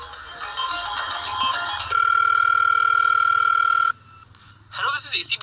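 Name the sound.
telephone dial tone while calling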